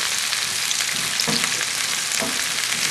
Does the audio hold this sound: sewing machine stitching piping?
no